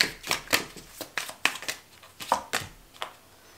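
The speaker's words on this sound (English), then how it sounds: "I'm going to shuffle one more time." Tarot cards shuffled by hand up close, a series of quick riffling and snapping bursts with brief pauses between them.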